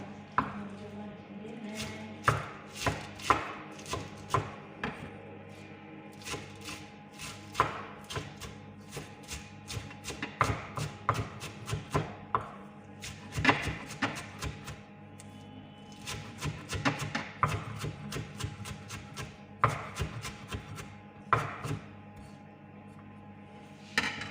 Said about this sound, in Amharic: ደቀቅ አድርገን መክተፍ ያስፈልገናል ማለት ነው።